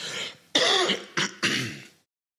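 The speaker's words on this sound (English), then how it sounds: "I'm coughing now." A person nearby coughs and clears their throat in a few harsh, rasping bursts, then it goes quiet.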